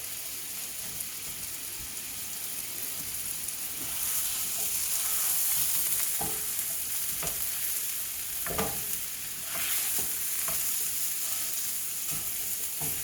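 Bacon and sausage fry together in a pan at medium heat, giving a steady sizzle with scattered pops and crackles and the occasional scrape of stirring, up close with no talking.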